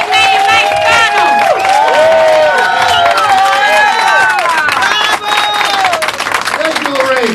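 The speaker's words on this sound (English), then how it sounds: "please let's give him a round of applause" Audience applause and cheering at a Hispanos Para Spano endorsement event for Mayor Mike Spano, a loud sustained crowd roar with clapping and whoops filling the whole stretch, voices mixed in.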